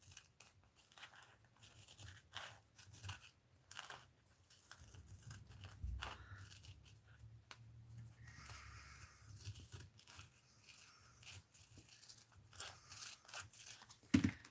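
Scissors snipping paper to trim about half an inch off a piece for a mixed-media art journal; quiet, scattered cuts and paper rustles spread across the clip, with no speech.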